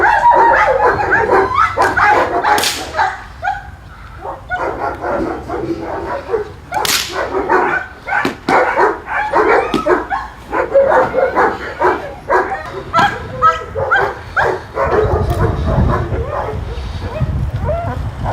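A border guard service dog barks in loud, repeated bursts at close range, with uneven gaps and some whimpering between the barks.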